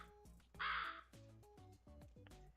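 A crow caws in the video game Blue Archive, several hoarse calls in quick succession, close and clear, with a louder, broader squawk near the start.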